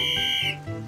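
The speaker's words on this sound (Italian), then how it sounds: "Boris, spiegami di nuovo a cosa serve il fischietto." A safety whistle from a life jacket gives one shrill, steady blast of about half a second, close and loud, followed by a brief background murmur in a children's cartoon boat scene.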